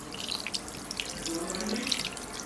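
Water running from a tap into a vessel while cooking mutton chops, a soft continuous splashing trickle with a few drips, fairly quiet and alone.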